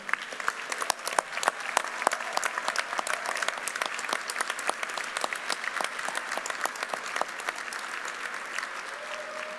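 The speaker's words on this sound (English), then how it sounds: "Let's give our graduates another round of applause." A large audience applauds graduates at a university commencement ceremony, steady dense clapping from many hands sustained throughout, moderately distant in a big hall.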